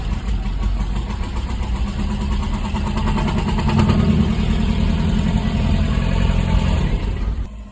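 A Ford Sierra engine cranking over steadily and sputtering as if about to catch, a loud continuous chugging that runs for several seconds before cutting off.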